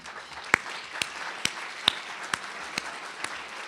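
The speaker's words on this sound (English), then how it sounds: "give her a round of applause" Scattered, fairly faint applause from a gala audience, a handful of distinct claps spaced roughly half a second apart rather than a full ovation.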